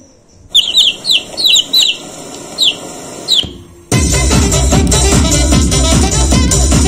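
A yellow chick in a staged fairy tale play gives a run of short, high, bright chirps in quick bursts, followed by a sudden switch to loud, busy music.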